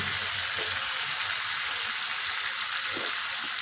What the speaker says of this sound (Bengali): পটল দিয়ে 2 মিনিট কষিয়ে নেব, যাতে পটলের মধ্যেও মশলাটা ঢুকে যায়